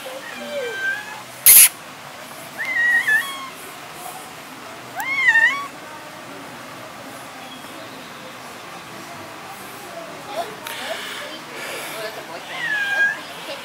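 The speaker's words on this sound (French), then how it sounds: "Et oui, comme partout, il y a des chats." Several cats meowing outdoors around a resort lobby in Punta Cana, Dominican Republic, giving a few distinct, fairly loud calls spaced over the scene with a sharp knock and faint background voices.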